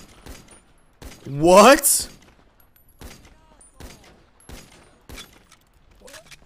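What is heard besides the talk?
gunfire from video game set in Los Santos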